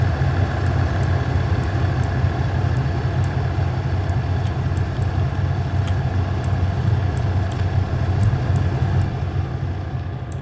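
Steady low engine drone of a fuel truck parked beside an airliner in X-Plane 12, a continuous rumble with faint repeating clicks above it and no talking.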